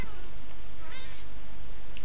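A cat meows in the video game Minecraft: a couple of brief, thin meows sit over a steady game background, with no one talking.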